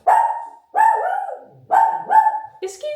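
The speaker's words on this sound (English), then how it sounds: "Oh, that was such a scary howl." A dog gives a series of loud, close, drawn-out howling barks, about four in three seconds, each sliding in pitch, with a higher yip at the end.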